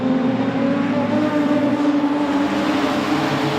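Production sedan race cars racing on a dirt speedway, a steady loud drone of several engines roaring together at distance, sustained without break.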